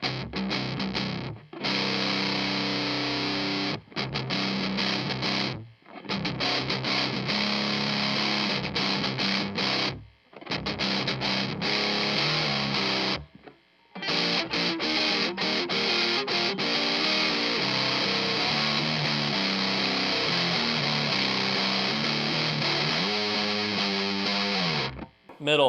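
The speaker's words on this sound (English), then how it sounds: "put on some overdrive. And of course, by overdrive, I mean distortion. So this is from the Dracaris by Wampler." Electric guitar run through a Wampler Dracaris overdrive pedal set for heavy distortion, loud riffs and sustained chords in bursts separated by brief silent gaps, ending in a quick ascending run.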